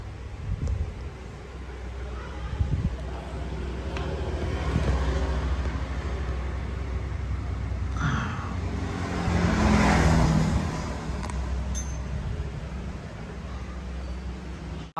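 A Honda Wave 110 motorcycle with an Alpha engine block runs on a test ride, a steady near engine drone with a rise in revs around the middle and brief swells, no talk over it.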